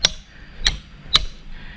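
A hammer drives a metal spike into a tree trunk, making footholds for climbing to a wild giant honeybee hive: three sharp, ringing metallic strikes spaced about half a second apart, close and alone.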